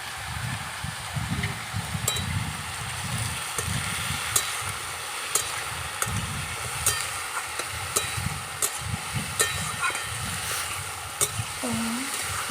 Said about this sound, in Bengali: এটা ভালো করে ভেজে নিচ্ছি।